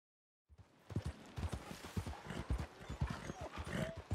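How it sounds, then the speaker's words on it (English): Horse hooves clip-clop at a steady walking rhythm while riding in the Red Dead Redemption 2 video game, close and clear, with faint ambient game sounds and no talking. "ride through the area on your horse with poison arrows"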